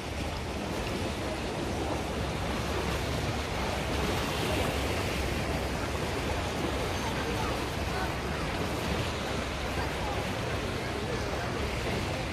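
Sea waves in a small bay at Sorrentino beach in Italy, a constant broad wash of surf and wind noise running unbroken throughout, with no voices heard.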